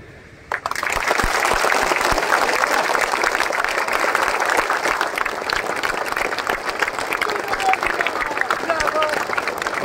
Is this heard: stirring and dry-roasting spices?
no